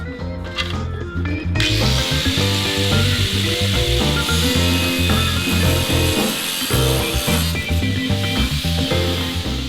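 An angle grinder scoring a cement smartboard sheet for an exterior house wall: a loud, steady whining grind runs close and unbroken, with the pitch wavering slightly as the blade moves through the board.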